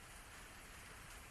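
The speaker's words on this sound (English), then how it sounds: "taking shelter from the rain" Steady rain falls beside a tea house in a visual novel scene, a soft, even hiss with faint low patter, quiet and continuous with no voices.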